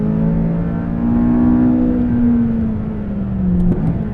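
McLaren 570S sports car engine droning steadily on a racetrack, heard from inside with a strong low tone that swells, eases and rises in pitch as the car accelerates, ending with a brief shift.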